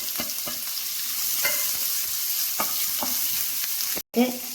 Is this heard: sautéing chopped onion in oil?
yes